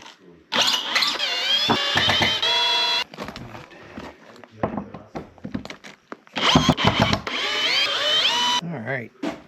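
A power drill backs out screws in a shed, its motor whining in rising and falling pitch through several long runs, separated by short pauses and clicks.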